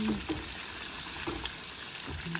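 Beef ribeye sizzles in a hot pan with a steady, close crackle, with a few soft scrapes and knocks as the steak is flipped.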